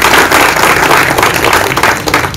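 An audience applauding at an honouring ceremony for winning election candidates, a dense, loud burst of many hands clapping together that carries on throughout.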